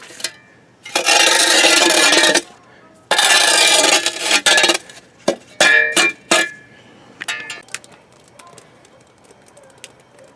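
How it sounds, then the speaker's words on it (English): A shovel scrapes and grinds into hardpan soil in two long rasping strokes, followed by several shorter scrapes and knocks that fade out. "You will know you've reached hard pan when it sounds like this."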